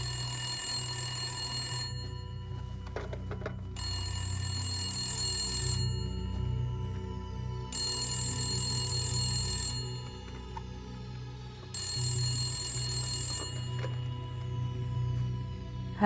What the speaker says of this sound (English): It's been ringing incessantly.